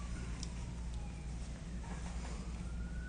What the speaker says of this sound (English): you hear the siren behind me?